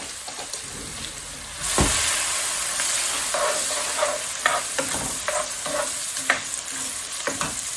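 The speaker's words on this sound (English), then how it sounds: "We're just going to let these saute for a little bit." Vegetables sautéing in a pan with a little salt, a constant close sizzle after a clatter near the start, with repeated scraping stirs and light clinks throughout and no talking.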